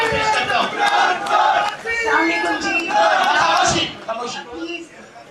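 A crowd at a press conference on electoral fraud erupts in loud cheering and shouted slogans, a thick wall of voices that swells and then fades toward the end.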